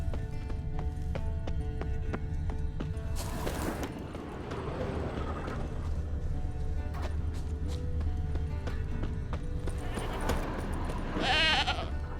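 A goat in The Witcher 3 bleats briefly near the end amid steady horse hooves clip-clopping and ambient game sounds, with a couple of other bleat-like calls earlier.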